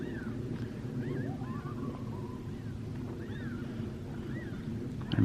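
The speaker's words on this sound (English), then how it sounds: "I'm pretty sure that's a coyote, right?" Faint coyote yips and short howls drift in from far off, scattered over a steady low background rumble at a Grand Canyon campsite in the morning.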